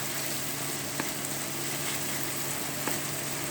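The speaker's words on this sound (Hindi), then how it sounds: "अभी हम 2 मिनट तक और इसे अच्छे से भूनेंगे।" Semolina halwa roasts in oil in a pan, giving a steady, close sizzle that holds evenly throughout, with a couple of faint taps from stirring and no talk.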